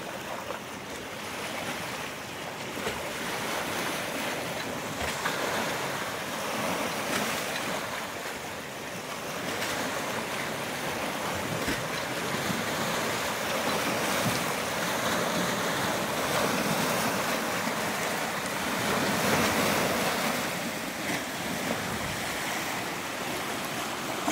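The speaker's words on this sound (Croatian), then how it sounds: "vidi se tamo valovi koji se stvaraju od struje koja ide na vani od oseka" Sea water rushing and surging at Čikat as the sea pulls back before a tsunami, a continuous broadband roar of waves and outgoing current with wind buffeting the microphone, steady and fairly loud throughout, with no voices.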